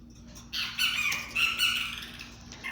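Tame pet cockatiel giving harsh, rasping squawks in a couple of close, loud bursts, with a steady faint hum underneath.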